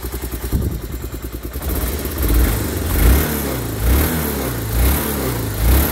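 A 1986 Honda 350 Fourtrax 4x4 ATV engine, started after sitting unused since 2008, putters in a steady close idle with a rough, slightly uneven low throb and some mechanical clatter.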